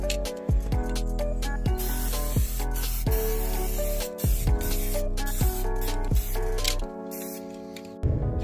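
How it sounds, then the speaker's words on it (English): Steady hissing spray-paint bursts repeat in short pulses over a continuous music bed, the aerosol can loud and close as it coats the underside of a model train carriage. "I'm going to spray down the underside of the carriage"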